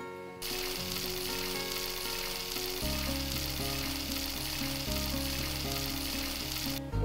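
Chicken muttilu frying in hot oil in a pan, a loud, continuous close sizzle with a steady hiss and no talking.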